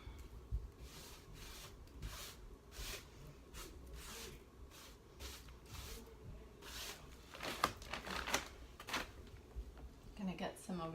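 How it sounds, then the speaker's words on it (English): A brush buffs dark stain across barn-wood furniture, giving soft repeated rubbing and scrubbing strokes in a steady rhythm, close and quiet, with a few sharper scrapes near the end. "Using my brush to tuck in some of that dark stain and then buffing it out."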